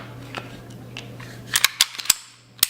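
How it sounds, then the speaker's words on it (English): A Canik TP9SA pistol slide racked back and forth, crisp metallic clacks and snaps in quick succession, faint at first then several sharp, close clicks near the end, with no talking. "when you rack the slide back and forth"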